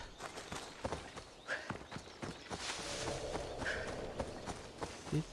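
Horse hooves clip-clop at a gallop in Assassin's Creed Odyssey, a steady run of sharp, close hoof strikes over soft ambient game sound.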